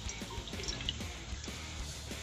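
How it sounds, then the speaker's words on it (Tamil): Two cups of water are poured into a cooking pot for Maggi noodles, a faint, steady liquid trickle with light dripping and no voices. "ரெண்டு கப்பு தண்ணி ஊற்றிக்கலாம்."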